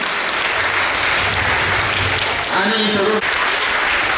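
Applause from an audience at a school quiz competition prize announcement at Sahakar Vidya Mandir, Deulgaon Mahi, continuing dense and steady while a voice briefly speaks over it through a microphone.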